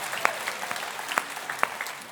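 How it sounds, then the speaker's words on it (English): A stand-up comedy crowd in a Glasgow pub show claps for an audience member named Stephanie, a short, fairly thin patter of hand claps with a few sharp louder claps. "round of applause for Stephanie"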